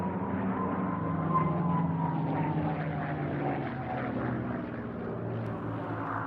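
A Merlin-engined P-51 Mustang fighter drones steadily overhead at an air show, its engine roar sustained and loud, with a slowly falling pitch as it passes.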